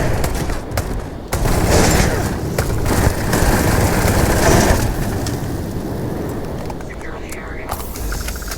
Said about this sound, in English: That is the Drumbeat rifle.